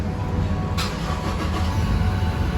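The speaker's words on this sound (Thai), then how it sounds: "สังเกตว่าเครื่องยนต์จะสตาร์ทติดนะครับ" A Toyota Revo Rocco's engine turns over at the press of a push-start button and catches at once, settling into a steady low idle that rumbles on without anyone speaking.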